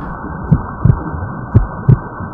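Heartbeat sound in a lesson on the circulatory system: two paired lub-dub thumps, deep, loud and close, with a steady low hum between beats and no voices.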